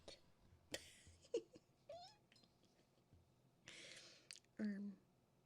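A cat gives several short, faint meows and soft chirps spread over a few seconds, scattered among quiet rustling and small handling noises in a close, hushed setting.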